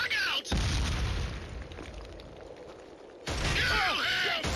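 Frag grenade blast in the video game Killzone: a heavy low boom that opens abruptly and rumbles off over several seconds, with combat noise flaring loud again toward the end.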